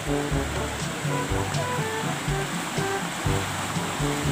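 Continuous rushing of a muddy river swollen after rain, fairly loud and steady, with a low rhythmic thrum running underneath it.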